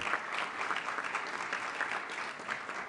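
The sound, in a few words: applause for an award honoree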